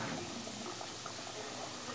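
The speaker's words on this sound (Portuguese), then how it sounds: "Já tô fritando os pastéis" Brazilian pastéis frying in hot oil for homemade pastry, a steady soft sizzle and bubbling that stays faint and even throughout, with no talk over it.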